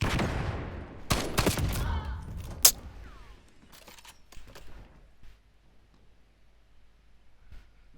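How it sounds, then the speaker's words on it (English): Video game flashbang and gunfire: a loud burst of layered gunshots and a sharp bang up front, followed by scattered fainter shots and clicks that fade toward near silence. "Incoming flashbang."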